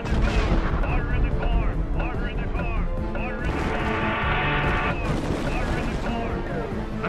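Dense, continuous gunfire and booming artillery-like blasts following a shouted order to fire, loud and chaotic throughout, with shouting voices mixed in.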